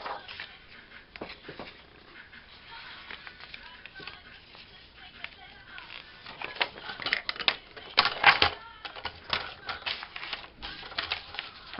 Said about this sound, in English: I'm just eyeball trimming it.